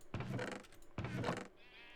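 Two close, clear bleats from a sheep in the video game Minecraft, each about half a second long, spaced apart, followed by a faint tonal sound.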